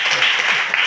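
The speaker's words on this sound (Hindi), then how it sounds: "मैं इसके लिए एक जबरदस्त ताली जाती हूँ।" Crowd clapping at a DXN meeting in India, a short, loud, dense burst of applause filling the moment without a pause.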